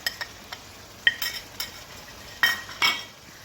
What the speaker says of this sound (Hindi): और इसको मिक्स कर लेंगे।